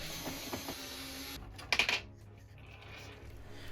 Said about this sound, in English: We'll go ahead and remove the battery pack by taking off 4 screws.